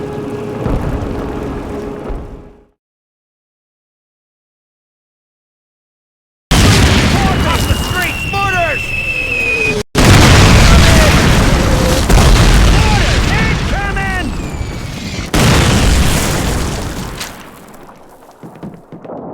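Mortar explosions in the World War II shooter Call of Duty, with heavy booming blasts that break off into silence and then return loud and close, with voices and battlefield noise mixed in.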